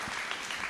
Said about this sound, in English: So let's give some more applause.